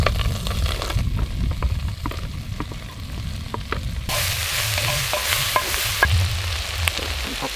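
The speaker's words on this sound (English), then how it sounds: "I'm just going to add all the rest of the veg there." Vegetables sizzle and crackle steadily in a pan over a campfire by Lough Ree, with frequent stirring scrapes and clinks; the frying grows brighter and louder midway as more veg goes in, continuous and close with no talking.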